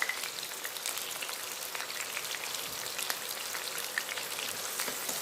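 Cut onion petals hit a hot pan for cauliflower manchurian gravy, giving a dense, steady sizzle with fine crackling throughout, close and fairly loud with no voices.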